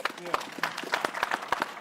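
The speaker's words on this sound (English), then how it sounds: "Round of applause." Audience applause at a televised business ethics debate: short, scattered claps rising under and between voices in the studio.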